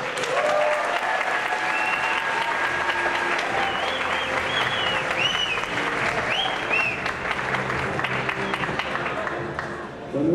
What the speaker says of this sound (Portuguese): Palmas para eles.